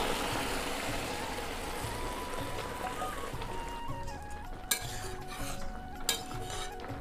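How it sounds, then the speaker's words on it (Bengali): Hot water poured into a pan of sizzling potato curry with shrimp and banana flower, a loud rushing hiss that settles into bubbling, followed by metal utensil clinks and scrapes against the pan, close, no voices. "আমি এবারে গরম জলটা দিয়ে দেব।"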